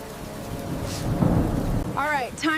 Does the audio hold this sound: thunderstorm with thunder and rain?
yes